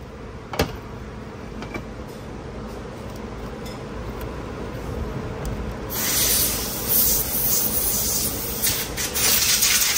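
Transmission parts from a 2018 Chevrolet Silverado 6L80 rebuild are sprayed off. A quiet hiss with small clicks gives way to a loud, sustained, close-up spray burst halfway through.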